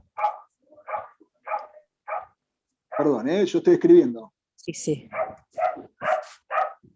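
A small dog barks in short sharp yaps over an open microphone during an online class, four at a steady rhythm, then more after a stretch where a person speaks over the sound.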